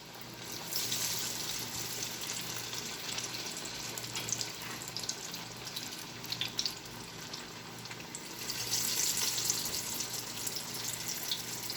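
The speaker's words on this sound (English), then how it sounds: "See, you can see the bubbles in the oil. You need to cook the vadas until the bubbles lower down." Plantain flower vadas sizzle in hot oil with a steady, hissing crackle that swells slightly near the end, soft and continuous without talk.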